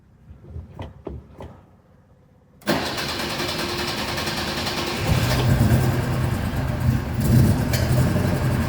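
A hot-rodded BMW 2002 engine, started after sitting 22 years, gives a few soft clicks, then catches suddenly and runs loud and rough, its revs rising after a few seconds and holding at a steady roar.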